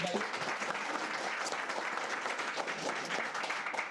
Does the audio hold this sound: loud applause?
yes